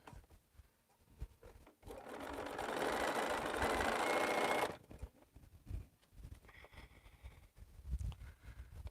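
A sewing machine stitches quilt units in one steady, fairly loud run of about three seconds, with quieter handling of fabric and faint background noise before and after.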